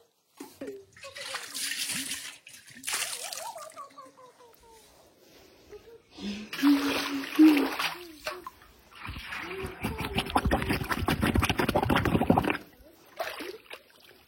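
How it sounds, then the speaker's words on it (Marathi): A kalshi water pot is filled with water in bursts of splashing and gurgling, loudest toward the middle and end, with a child and an adult talking nearby between the pours. "मी पाणी आता घेतलेलं आहे कलशीमध्ये"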